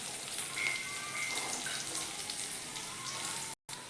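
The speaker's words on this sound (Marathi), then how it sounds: "आपण हे खोबरं आणि लसूण आणि अद्रक थोडंसं भाजून घेतलं आहे बघा" Coconut, garlic and ginger dry-roasting in a pan make a steady, soft crackling hiss with faint scattered pops, even and continuous at moderate distance.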